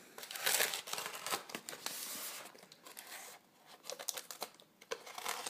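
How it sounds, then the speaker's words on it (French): A knife cutting into polystyrene packaging while a collectible Predator figurine is unboxed, giving crinkly, squeaky scraping and tearing bursts in uneven, close strokes, with no talking. "Petit coup de couteau au niveau du polystyrène"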